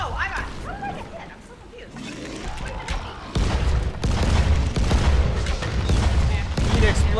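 Explosions in the zombie video game Dying Light boom in a dense, loud burst of blasts that swells midway and keeps rumbling, with players talking over the action throughout.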